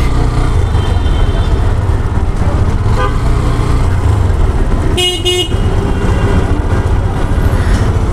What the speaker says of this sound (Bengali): জ্যামের পরিমাণটা অনেক, আর কি করার।